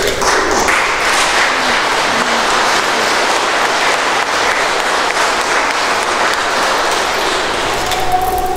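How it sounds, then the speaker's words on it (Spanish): Loud, sustained applause from a wedding congregation during a Catholic Mass ceremony, dense steady clapping filling the church for the whole stretch without pause. "nosotros les damos un fuerte aplauso."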